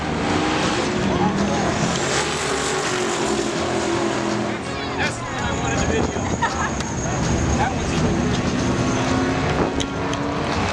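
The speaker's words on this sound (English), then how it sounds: "we're gonna be catching some drag racing" Loud drag racing cars roar and whine past at close range at a hot rod event, with crowd noise and people talking underneath the constant engine din.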